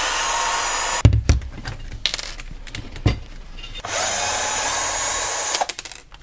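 Cordless pocket drill with a 2.5 mm hex driver backing screws out of an Arrma Kraton EXB RC car's suspension arm, a loud near whine that stops, then several short bursts of motor and rattling, then another sustained run.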